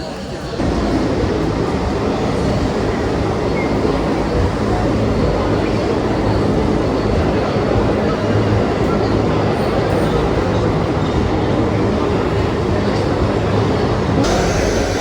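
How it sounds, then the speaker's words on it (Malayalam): A MEMU train running from Mettupalayam to Podanur pulls into a station on the Coimbatore line: a loud, steady rumble and rolling drone that lasts the whole time, with indistinct voices beneath. "മേട്ടുപ്പാളയത്തു നിന്ന് പോത്തന്നൂരിലേക്ക് വന്ന മെമു ആണ് ഇവിടെ വന്നത്."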